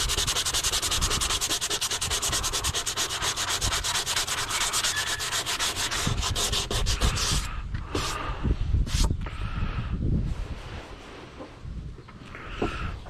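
Coarse sandpaper rubbed by hand over slight indents on a work truck mirror housing, a fast rhythmic scratching that runs loud and steady, then breaks into slower, separate strokes near the end.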